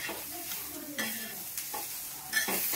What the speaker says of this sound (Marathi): आणि इथे मसाला चाललाय भाजायचा.